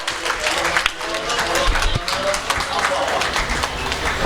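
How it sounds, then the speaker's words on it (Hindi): Crowd at a national traders' honour ceremony and poets' gathering in Hapur keeps up continuous applause, a dense close clatter of hands with voices mixed in beneath. "तालियां रुकनी नहीं चाहिए"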